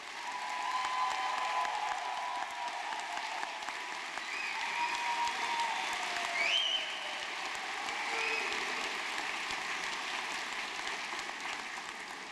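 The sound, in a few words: audience applause for mathematics graduates at university convocation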